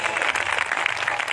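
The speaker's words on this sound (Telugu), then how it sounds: "చప్పట్లు కొట్టండి, ప్రభుకు మహిమ కలుగునట్లు" A church congregation at a gospel meeting claps together in a dense, steady burst of applause that fills the whole short moment with no pause.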